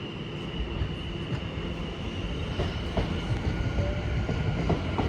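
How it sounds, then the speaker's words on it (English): A Class 701 electric multiple unit pulls away from Clapham Junction toward London Waterloo, a steady rolling rumble with faint wheel clicks and a thin, sustained tonal whine, heard from the platform without talk. "701006 now heads off to London Waterloo"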